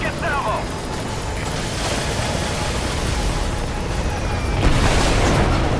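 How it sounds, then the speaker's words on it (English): A helicopter explodes in a video game: a loud, broad explosion roars with sustained rumbling debris, then another blast surges near the end, while someone talks over it. "I think we get to see the helicopter blow up."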